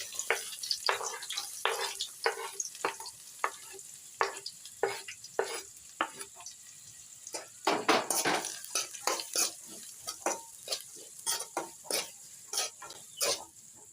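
Finely chopped onions and dried red chillies fry in a pan for moringa flower egg poriyal. A utensil stirs and scrapes them in repeated rhythmic strokes over a soft sizzle, close and clear, with no talking.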